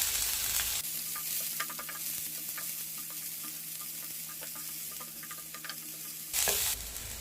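Curry leaves sizzle in hot oil alongside chopped green chilli while tempering mixed sundal. A steady, soft crackle builds after a brief opening, with a louder burst of sizzling near the end. No one speaks.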